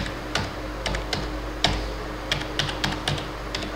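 Typing a PAN number on a computer keyboard in Tally Prime accounting software, a quiet run of a dozen or so irregular key clicks close to the microphone, with no voices.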